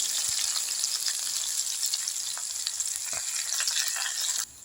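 Curry leaves and garlic frying in hot coconut oil give a steady, close crackle and hiss, with a few sharper pops rising through the bright sizzle before it cuts off abruptly at the end.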